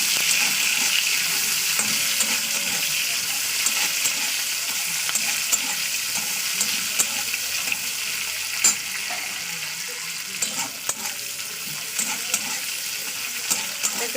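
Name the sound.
chopped onion frying and being stirred in oil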